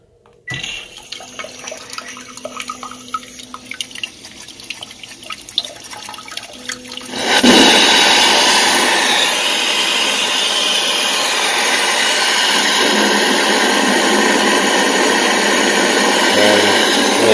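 An electric bidet's feminine wash spray switches on partway through, hissing continuously and fairly loudly after a quieter, faintly rattling stretch.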